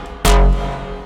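A sample triggered in FL Studio with heavy reverb: one sharp, loud hit followed by a long, washy tail that decays slowly through the rest of the second.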